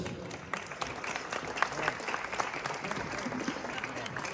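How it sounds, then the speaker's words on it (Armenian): Audience applause at an Armenian auto show, with a crowd clapping in a dense, steady patter that holds for several seconds at moderate distance. "Ծափահարություններ"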